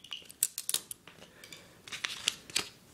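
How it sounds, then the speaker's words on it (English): Scissors snip a small piece off a plastic drinking straw, several quick, sharp cutting clicks close by with short pauses between them. "take the scissors, and cut a little piece of the straw like that."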